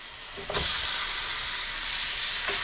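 Pork chops frying in a pan sizzle steadily and loudly, the hiss surging as they hit the hot fat and holding as a continuous crackle with no talk.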